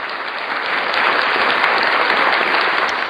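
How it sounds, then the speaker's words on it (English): Steady, loud applause from a crowd fills the whole moment, an even wash of clapping with no breaks. "Give him a round of applause"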